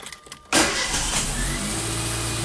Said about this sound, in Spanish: Encendemos el vehículo y esperamos alrededor de un minuto